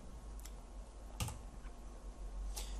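A computer keyboard being typed on while entering Java code, giving a few sparse, separate keystroke clicks over a low steady hum, up close and fairly quiet.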